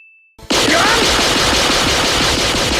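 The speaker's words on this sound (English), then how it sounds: "He can do finger machine guns!" An anime character in One Piece fires machine-gun-style shots from his fingers: a brief tone, a cut, then a loud, continuous rapid rattle of gunfire with a faint voice underneath.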